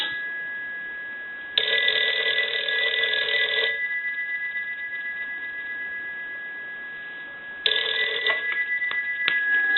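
A Western Electric 302 rotary dial telephone's bell rings loudly in two bursts, a long ring followed by a pause, then a shorter ring, close and clear with no talking.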